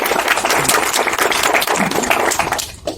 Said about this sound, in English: If you're organizing a convention, give them a round of applause